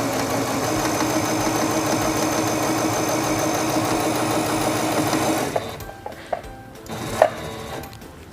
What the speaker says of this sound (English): Release the button and sew forward along your seam.